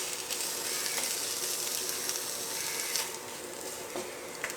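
Kovakka (ivy gourd) curry sizzling loudly in a pan as it is stirred, a dense continuous frying hiss with faint scrapes of the spoon, no voices.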